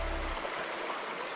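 Creek water at Reyes Creek Campground flows in a steady broadband rush, close and continuous, with a brief low rumble at the very start; no voices.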